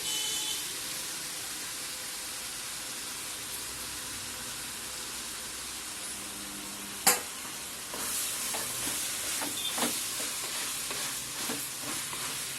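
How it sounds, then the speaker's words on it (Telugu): Tomatoes frying in a clay pot for horse gram rasam give a steady close sizzle throughout, with a sharp clink near the middle and scattered stirring scrapes afterward. "ఇప్పుడు ఇది ఒక రెండు నిమిషాలు వేపుకున్నామండి ఇవన్నీ ఇప్పుడు టమాటా వేసుకున్నానండి"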